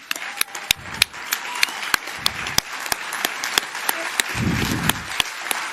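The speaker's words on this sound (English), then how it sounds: "I just want everyone to stand up and give a round of applause to all those that went" Applause at an annual awards ceremony, with distinct sharp claps punctuating a murmuring crowd and bursts of low rumbling, likely people rising from their seats, moderately loud throughout.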